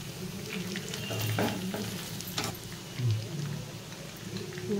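Chicken frying in a pan as its water cooks off, with a steady sizzle and bursts of stirring and scraping. A few faint voice-like sounds come through beneath it.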